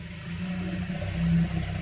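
A domestic sewing machine stitching a churidar, with a low, steady motor hum and mechanical whir that swells briefly partway through, close and moderately quiet, with no talking.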